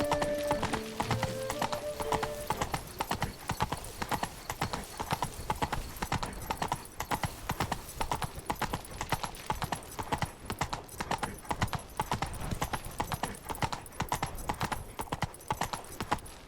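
Horse hooves galloping in a rhythmic, continuous clip-clop on a road in Witcher 3 Blood and Wine, loud and close, with a brief neigh and some game music early on.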